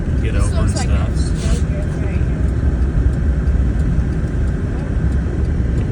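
A Can-Am vehicle drives through deep snow on a road during a blizzard, its engine droning loud and constant up close while someone talks over the noise.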